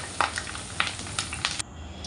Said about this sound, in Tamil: அதே கடாயில் வந்து கொஞ்சம் கருவேப்பிலையும் ஃப்ரை பண்ணி சேர்த்திக்கலாங்க